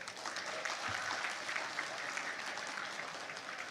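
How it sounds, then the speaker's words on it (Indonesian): A political party gathering in Indonesia breaks into applause for its treasury team, a dense and fairly distant crackle of many hands clapping steadily with no speech over it. "Untuk kali ini kita beri tepuk tangan untuk tim kebendaharaan kita."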